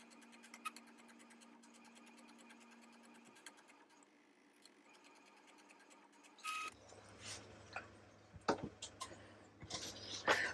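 Printer printing sublimation keychain designs, a steady mechanical whir with repeated ticking carriage passes, then louder clunks and motor bursts toward the end, heard close with no talk.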